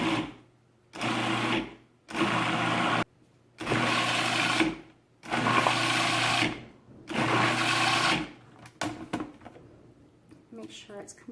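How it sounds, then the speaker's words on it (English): A food processor blends cooked pumpkin into puree in five loud motor bursts of about one to two seconds each, separated by short pauses, followed by faint scraping and clatter. "what I want to do next is blend it in my food processor"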